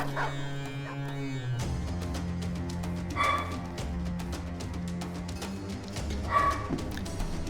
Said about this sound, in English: I don't know how well the dog barking comes through on the microphone, but he's barking very loudly